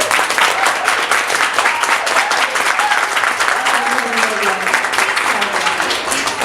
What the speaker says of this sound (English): can we give her an amazing round of applause?